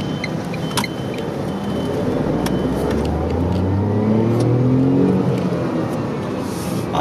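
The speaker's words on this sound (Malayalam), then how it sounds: "ആറായിരം RPM റെഡ് ലൈൻ ചെയ്തു, പക്ഷെ 6000 RPM എനിക്ക് 70 km സ്പീഡിലാണ് കിട്ടിയത്" A Tata Tiago facelift XZ+ BS6 2020 hatchback's engine revs steadily up toward its 6000 RPM redline at about 70 km/h, a loud, continuous rising drone heard alone from inside the car.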